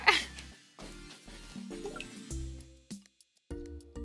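Oil mixed with food coloring is poured into water, giving soft, irregular gurgles, drips and splashes in short bursts with brief quiet gaps between them.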